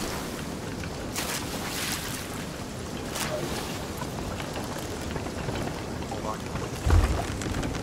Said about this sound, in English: It's a storm.